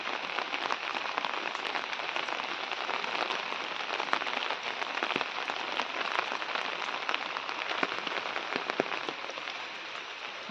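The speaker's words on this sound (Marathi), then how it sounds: "पाऊस लागतोय चला" Steady rain patters on a surface, a continuous dense hiss with scattered louder drops, unbroken throughout.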